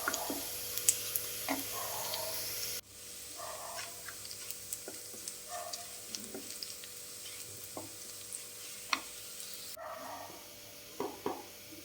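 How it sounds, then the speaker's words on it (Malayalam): Onions frying in a pan while being stirred, with a low sizzle broken by intermittent scrapes and clicks of the spoon against the pan. "ഉള്ളി നന്നായിട്ട് മൂത്ത് തന്നെ നന്നായിട്ടൊന്ന് ഇളക്കി കൊടുക്കാം"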